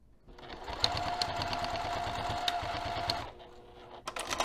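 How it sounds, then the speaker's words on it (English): A sewing machine stitches fabric in a steady, fast mechanical whir for about three seconds, then stops, followed by a few light clicks and handling taps up close. "And we're going to stitch this in place either side 1/8 of an inch away from the edge of the fabric."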